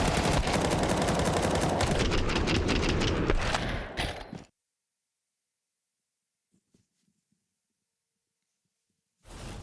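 Rifle sprays from multiple players in Counter-Strike 2, a loud rapid stream of automatic gunfire for about four seconds that cuts off into near silence, with a faint click or two and a last burst at the very end.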